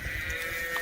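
A cow in a spring pasture on a working farm gives a brief, steady low call, close by, with a continuous hum of the farm setting underneath.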